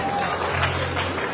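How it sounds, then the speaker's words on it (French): Crowd at a concert clapping on request, a brief burst of applause heard under someone talking over it. "Applaudissez pour ce style avant qu'on continue."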